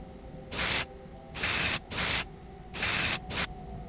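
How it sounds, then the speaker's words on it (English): Spraying in the game Hiraeth comes as five crisp, hissing bursts, each about half a second long and the last one shorter, loud and close over a low steady hum. "I love those spraying sounds"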